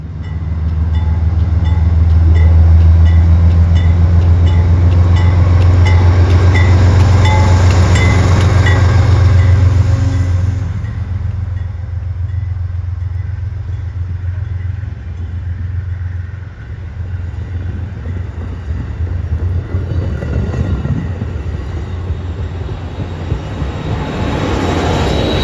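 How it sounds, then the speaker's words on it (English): An Amtrak Hiawatha passenger train pulls out of Glenview station behind a Dash 8 locomotive, a loud low diesel rumble that holds steady for about ten seconds, then eases into a softer rolling rattle of cars moving away. "we see Amtrak 338, the Hiawatha, departing Glenview with one of Amtrak's Dash 8s leading."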